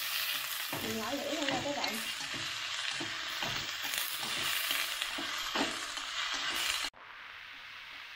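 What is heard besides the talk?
stir-frying oyster mushrooms with browned shallots in a pan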